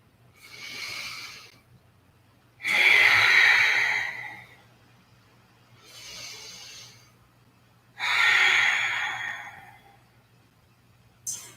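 Slow, deliberate yoga breathing during a carpal tunnel relief exercise: two full cycles of a softer inhale followed by a longer, louder exhale through the mouth, close and alone.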